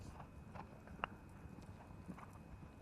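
Horse hooves clip-clop on turf during a polo match at the Open de France, a few scattered soft thuds at moderate distance over steady crowd and field ambience.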